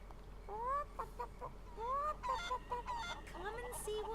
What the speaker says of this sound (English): Hey, the chicken is actually coming to the egg.